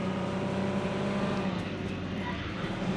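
A car arriving in the PUBG video game: a steady, loud engine drone fills the moment, holding evenly without breaks.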